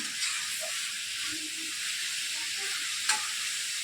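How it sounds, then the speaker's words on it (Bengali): Chicken frying in a pan late at night, with a steady close sizzle and hiss running throughout and a few faint stirring scrapes and clinks on top. "মিস্টার মুখার্জি রান্না করছে"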